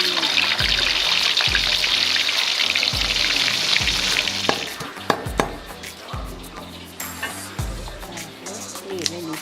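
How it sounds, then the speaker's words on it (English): Fish frying in hot oil in Thai cooking, a steady loud sizzle throughout, with rhythmic chopping knocks from a nearby kitchen and brief background voices. "next she's gonna fry the fish"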